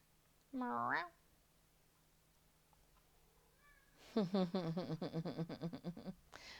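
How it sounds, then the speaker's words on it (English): A cat meows once nearby, then after a quiet pause a rapid run of repeated chattering mews follows, ending with a brief final sound. "I hear a cat meowing behind me."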